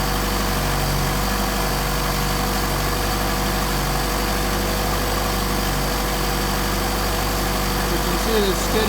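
A Mercedes 190SL fitted with Solex 44PHH carburetors idles steadily and fairly loud, a continuous low engine drone that stays even throughout.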